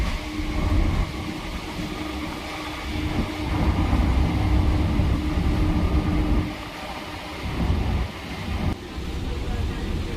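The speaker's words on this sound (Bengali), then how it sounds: "তো ট্রেনটা ছেড়ে দিয়েছে।" A moving local passenger train on a morning run, fairly empty, with a steady low rumble and rattle of the carriages that swells and dips throughout.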